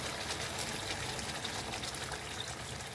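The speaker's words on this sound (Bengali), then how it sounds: "এতটা জল দিলাম" Water is poured into a cooking pot holding potatoes and meat, making a continuous splashing, trickling stream that stays close and fairly quiet.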